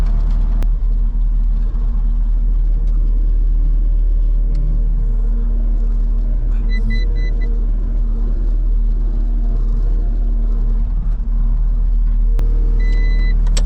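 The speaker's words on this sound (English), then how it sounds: "We'll let this thing run for a little bit and warm up." A dually pickup truck with 212,000 miles idles while warming up, a steady low rumbling engine drone that holds constant throughout, close by with faint clinks in the background.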